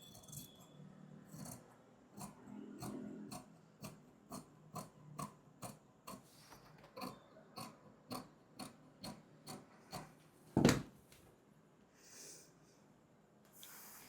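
Scissors cut away the extra fabric at the side of a blouse in a quiet, regular run of about twenty crisp snips, with a louder scrape near the end.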